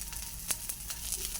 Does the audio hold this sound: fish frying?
yes